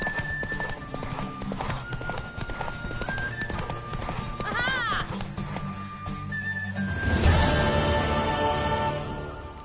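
Rhythmic hoofbeats of a galloping horse in The Witcher 3: Wild Hunt pound steadily beneath a busy musical score, with whistle-like tones and a swell of louder sound near the end.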